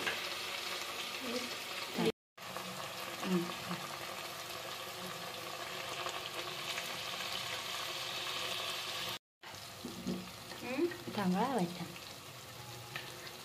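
Masala paste frying in oil in a pan, a soft continuous bubbling sizzle close by, broken by two brief silent gaps, with faint voices near the end.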